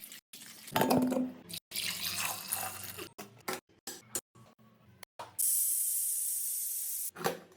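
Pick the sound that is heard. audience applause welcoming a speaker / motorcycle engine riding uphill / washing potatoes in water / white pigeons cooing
washing potatoes in water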